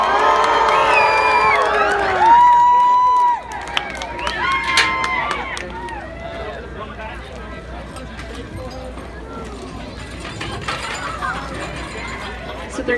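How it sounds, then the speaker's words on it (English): A crowd cheers on runners at the Onion Burger Fest, loud whoops and shouts clustered in the first seconds, then scattered cheers and voices under ongoing chatter outdoors. "Let's cheer them on, everybody."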